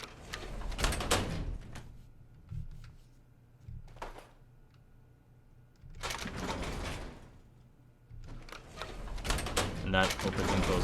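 Mechanical doors in Fallout 4 open and close in several broad whooshing, rumbling bursts separated by quieter stretches, with a voice talking between them.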